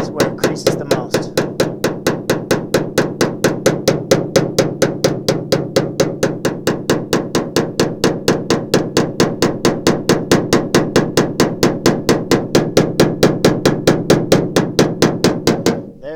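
Paintless dent repair tool tapping out a creased dent in the panel of a Chevy 4x4 2500HD outdoors, a rapid, steady run of close, sharp metallic taps, roughly four per second, continuing without pause and with no talk.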